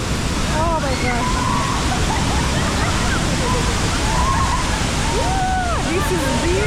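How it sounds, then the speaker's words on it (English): A Bali waterfall roars as a constant dense wash of falling water, loud and close, with excited voices and exclamations heard over it. "let's jump to the waterfall"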